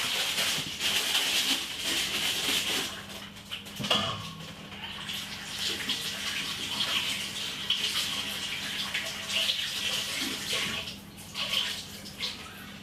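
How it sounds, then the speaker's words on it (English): A kitchen tap runs continuously while fresh corn is washed under it, a steady splashing hiss with small knocks of handling, steady in level throughout with no talk. "Wash off the corn and cut it off."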